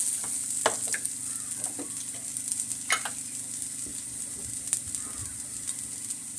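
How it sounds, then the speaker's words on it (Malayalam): Onion, ginger, green chilli and garlic sauté in a pan for country rooster chicken curry, a quiet steady sizzle punctuated by occasional sharp spoon taps and scrapes, close by with no talking. "ഇത് നല്ലപോലെ ഒന്ന് വഴഞ്ഞു വരട്ടെ നമ്മുടെ സബോള ഇഞ്ചിയും പച്ചമുളകും വെളുത്തുള്ളിയും എല്ലാം ഇത് നന്നായിട്ട് മൂത്ത് വരുന്നുണ്ട്"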